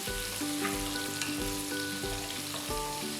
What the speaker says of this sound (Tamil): 3 பச்சை மிளகாயை கீரி சேர்த்து நல்லா வதக்குங்க